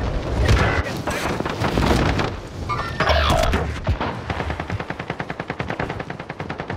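Rapid automatic gunfire from a Mac 10 in a video game firefight, loud bursts with dense overlapping shots early, then a steady rattling stream of distinct rounds toward the end.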